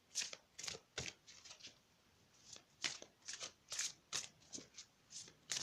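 Tarot cards are shuffled close by, a quiet run of soft, papery riffles and flicks in irregular bursts, with brief pauses between handfuls.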